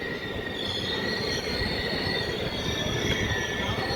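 The Satavahana Superfast Express rolls into Dornakal Junction with a continuous high-pitched squeal of braking wheels over a steady low rumble, loud and close, no voices.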